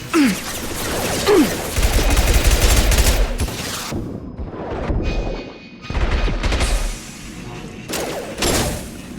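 Shotgun gunfire in the video game Mass Effect 2, heavy booming blasts and thuds in dense, loud bursts with short lulls between them, and voices faintly underneath.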